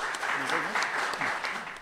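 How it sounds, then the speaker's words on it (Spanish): Brief applause from a seated audience at an academic session, a dense clapping wash with a voice speaking over it. "Le damos el aplauso, por favor."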